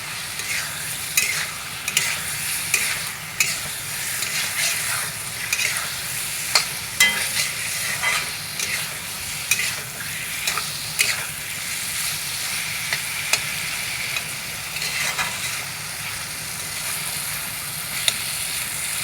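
Boiled potatoes with onion and garlic frying in a pan, a steady sizzle broken by repeated scraping stirs and clicks of a spatula throughout.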